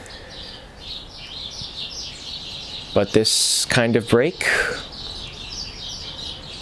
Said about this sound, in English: as you hear from the birds behind me